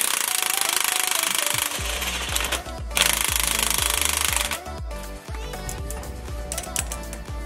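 Loud pneumatic impact wrench hammering in bursts against a bolt on a lowered truck's suspension, the rapid clatter starting and stopping several times over a steady compressor-like hum.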